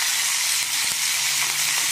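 Dried chillies, mustard seeds and cumin tempering in hot oil in a pan, a steady loud bright sizzle with faint popping and crackle throughout, no voices.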